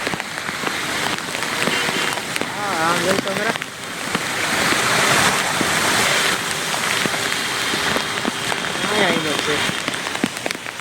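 Heavy rain pours over flooded streets of Junagadh city, a dense steady hiss of downpour throughout with people talking nearby over it.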